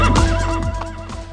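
A horse whinnies loudly and close by, its shrill, wavering neigh rising and falling before trailing off.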